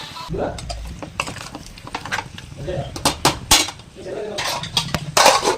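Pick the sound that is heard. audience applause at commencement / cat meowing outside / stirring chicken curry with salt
stirring chicken curry with salt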